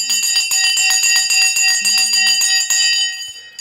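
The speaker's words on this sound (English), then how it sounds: "Let me ring the bell." A bell rung rapidly in a fast series of bright, ringing strikes for about three seconds before the tone fades out, loud and close.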